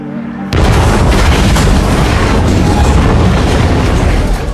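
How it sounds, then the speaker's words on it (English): A huge film explosion blows up an escort car in a convoy, bursting in suddenly and roaring as a sustained, loud, dense blast that fills the whole clip. "With a great explosion, Mai gets rid of the escort car"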